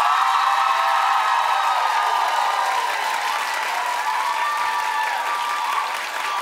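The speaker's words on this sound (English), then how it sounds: "Clap." A studio audience claps during a television talk show's clap poll, a loud, dense burst of applause from the start that tapers slightly toward the end, with some cheering mixed in.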